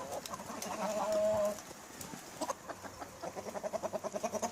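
Hens in a garden with small stones and gravel along its edge cluck in short repeated bursts, close and steady, with no talking.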